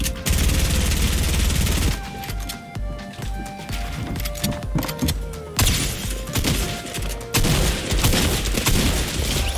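AK gunfire in the Fortnite video game crackles in rapid bursts with booming impacts and thuds, loud and dense, with a few brief gaps between volleys.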